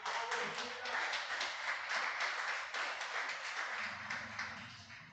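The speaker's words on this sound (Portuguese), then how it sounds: "Dê uma salva de palmas para Jesus." A church congregation applauding for Jesus during a service, dense sustained clapping filling the room at an even level, with a voice faintly present underneath.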